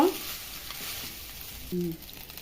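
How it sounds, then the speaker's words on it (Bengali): Cooked rice with ginger is stirred in a frying pan, giving a quiet sizzle under soft scraping and a brief clink of the utensil near the end. "ভাতটা ভালোভাবে মিশিয়ে নিব।"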